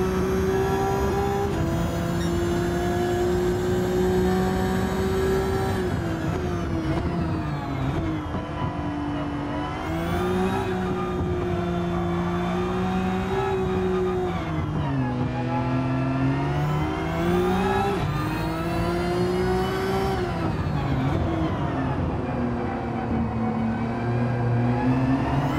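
Roaring racing-game engines of a Ferrari and a Ford, a loud sustained whine that rises and falls with gear shifts and throttle changes, steady and close throughout with no talk.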